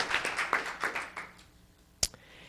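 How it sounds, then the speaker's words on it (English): Applause at a town council meeting in Los Gatos trails off: a brief scattering of hand claps fading out over about a second, followed by a single sharp tap. "Round of applause for all those individuals and departments involved in making that happen."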